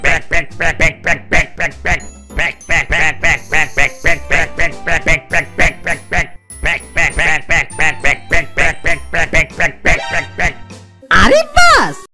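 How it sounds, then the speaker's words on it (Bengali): A flock of ducks quacks loudly and continuously while feeding, dense overlapping calls up close with barely a break, and a person's voice briefly joins near the end. "এ তো দেখছি এক ঝাঁক হাঁস মনের সুখে কি সুন্দর খাবার খাচ্ছে"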